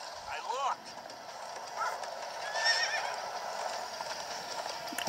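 A horse in Minecraft Story Mode whinnies and then clip-clops along at a gallop, steady hoofbeats under a continuous game soundscape, fairly close and moderately loud.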